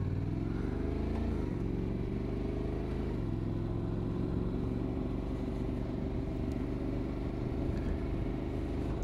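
A Honda NC 750X motorcycle pulls away, its engine note climbing through a gear change before settling into a steady, fairly quiet cruising drone with road rumble.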